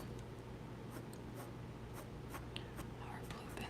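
A blue pencil scratches steadily across paper at close range, soft continuous strokes with brief lighter lifts, recorded intimately for drawing ASMR with no talking.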